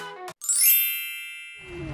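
A bright notification bell dings once, a clear metallic chime that rings out and fades slowly over about a second, with a soft low rumble following alone.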